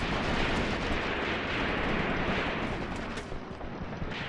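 Sustained battlefield gunfire from the WWII tactics game Graviteam Tactics: Mius Front, a lone machine gunner firing from a trench; dense, continuous loud crackle of shots and distant blasts with no voices over it.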